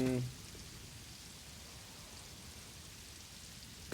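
Steady, even hiss of rain in the video game Satisfactory, continuous and moderately loud throughout, with a brief louder sound at the very start.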